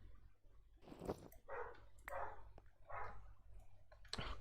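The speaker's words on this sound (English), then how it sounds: "the dogs are bothering me so much" Dogs barking in the background while someone plays the Create: Above and Beyond Minecraft modpack, several spaced barks at a faint distance with some clicking over a low steady hum.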